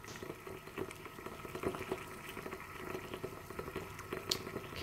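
Cobalt ethylenediamine isothiocyanate solution in a lab boils steadily with a low, continuous bubbling and occasional soft pops, close and moderately quiet, with no voices.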